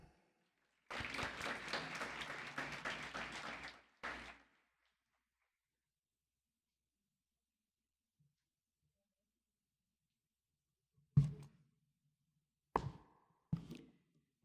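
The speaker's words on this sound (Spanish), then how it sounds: "Por favor, démosle todos la bienvenida y un fuerte aplauso." An audience applauds at an education lecture in Mexico, a loud burst of clapping lasting about three seconds, then silence broken by a few knocks.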